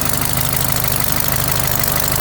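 A classic British car engine with a cracked exhaust manifold runs steadily up close, a dense, continuous rumble with a rapid pulsing throb and no voices.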